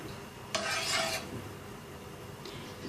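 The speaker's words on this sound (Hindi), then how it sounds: "मैं इनको घी में फ्राई करने लगी हूँ।" Beef chapli kebabs frying in hot ghee in a pan over low-medium heat give a brief burst of bright sizzling, then a quieter steady hiss with faint utensil clicks, near and alone.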